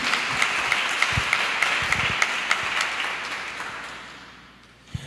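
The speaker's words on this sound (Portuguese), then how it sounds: "Eu quero convidar você, meu irmão e minha irmã, a aplaudir a palavra de Deus" A church seminar congregation applauds steadily with dense clapping, then the applause fades out toward the end.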